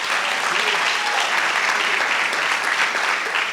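Dense, steady applause from a crowd at a university Founders' Day convocation, loud and continuous throughout with no break.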